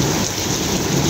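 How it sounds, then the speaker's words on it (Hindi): Heavy rain pours down as a loud, dense, continuous hiss with a low rumbling undertone. "देखिए कितनी तेज बारिश हो रही है।"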